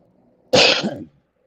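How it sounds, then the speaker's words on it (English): One loud, close cough, a short harsh burst that fades quickly into silence. "Sorry, I'm coughing in y'all's ear."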